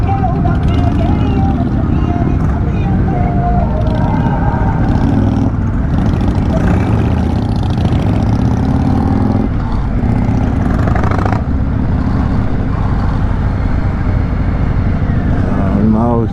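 A large group of Harley-Davidson motorcycles rolling past in a parade at an NHR 2024 ride in Panchkula, a loud, continuous engine rumble with crowd babble mixed in throughout.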